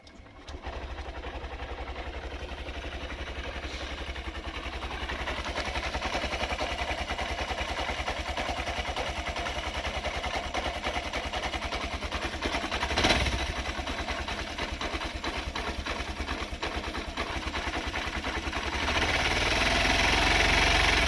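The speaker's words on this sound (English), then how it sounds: "That idle is way too low, so I'm going to have to get back into here and adjust the idle on the throttle body." A 2023 Honda CB125F single-cylinder engine idles too low, a close, steady, rapid chugging putter that holds for about twenty seconds with no talking, rising slightly near the end.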